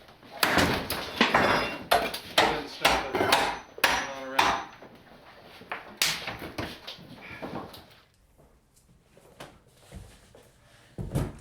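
Old kitchen cabinets being unscrewed and pulled out by a crew, with a loud series of knocks, bangs and clattering wood for several seconds, then a quieter stretch broken by occasional sharp thumps.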